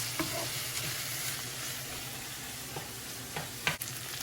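Mutton cutlet mixture frying and being stirred in a pan over high heat, a steady close sizzle with occasional scraping stirs and a sharper clack near the end, no talk.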